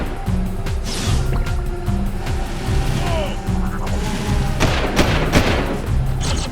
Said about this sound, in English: shoot that combat metalhead